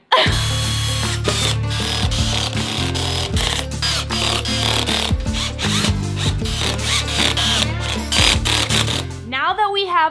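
L brackets are fastened onto a wooden floor mirror frame with a power drill or driver, which runs in repeated short bursts and whirs with clicks and rattles between them, and a person talks briefly near the end.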